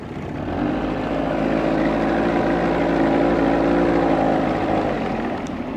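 A 1990 Johnson 20hp outboard motor fitted with a 15 pitch prop runs steadily at high RPM, a loud, continuous droning hum that holds even throughout with no talking over it.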